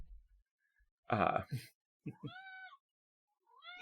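A cat gives two loud, drawn-out angry meows close by, the first harsh and low, the second a rising wail, with another cry starting at the end and quiet gaps in between.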